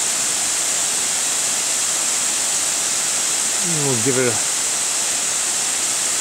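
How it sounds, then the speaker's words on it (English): Steady broadband water spray from a garden hose hitting an A-frame roof, a continuous hiss throughout, with a voice speaking briefly near the end. "Now I'll get my hose and let's give it a try."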